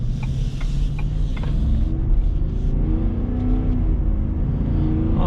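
A 2021 Ford F-150 XLT with a V8 and two-wheel drive accelerates in sport mode, its engine rumbling deep and loud from inside the cab and rising steadily.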